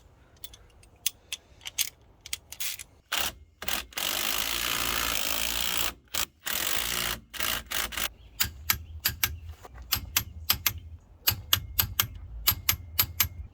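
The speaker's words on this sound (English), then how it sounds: "I'm going to use blue Loctite on my bolts and torque those down to 80 foot-pounds." A ratcheting torque wrench tightens Loctite-coated bolts on a Dana 60 axle king pin cap of a first-generation Cummins truck, giving quick clicking bursts and sharp metallic ticks in irregular runs, close up with no talking.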